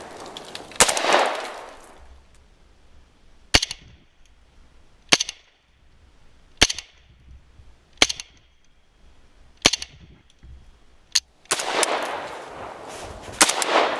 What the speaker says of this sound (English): So we're shooting somewhere here with the AK-74